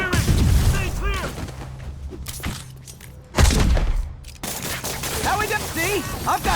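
Gunfire in the video game Marvel's Spider-Man comes as bursts of shots and heavy thuds, including a loud boom midway, mixed with shouting voices and other action noise.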